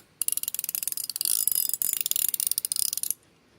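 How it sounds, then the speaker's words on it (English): A Hyper Tough ratcheting wrench clicks rapidly and steadily while tightening, a dense run of close, crisp pawl ticks for about three seconds that then stops. "let's see if we can get her tightened up here so we can hear the wrenching going"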